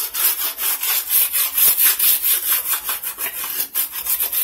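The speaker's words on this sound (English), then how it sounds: "The scraper is working better than the scrubby was." Rhythmic scraping of a scraper working Goo Gone residue off an oven surface, a steady run of short rasping back-and-forth strokes, close and fairly loud with no voices.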